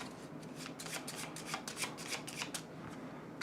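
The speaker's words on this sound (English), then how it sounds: "And then we'll shuffle these." A deck for the Tiny Epic Dungeons board game gets riffled and bridged nearby, giving a brisk series of crisp card flutters at a low, even level with no talking over it.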